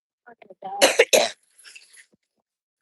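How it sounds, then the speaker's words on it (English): A person coughs a few times close by, a couple of sharp harsh bursts followed by a faint throat clear. "sorry about the coughing"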